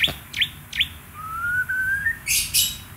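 Bright white-rumped shama song: a few short whistled chirps, a long rising whistle, then loud rapid trilling bursts, close and clear with no talking.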